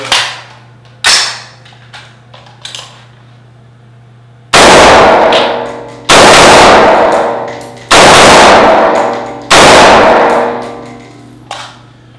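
Shots from an Aegis 15 AR-15 rifle at a range: a few lighter cracks, then four loud, sharp reports spaced about 1.5 seconds apart, each ringing out before the next, close and very loud.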